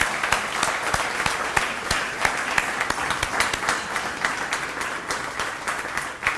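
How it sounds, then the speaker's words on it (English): A hall crowd at the 2017 Garnet Athletics Hall of Fame ceremony applauds former inductees with a steady, even wash of many hands clapping at moderate distance, crisp individual claps popping out, sustained throughout without pause. "So I'd like to give them a round of applause"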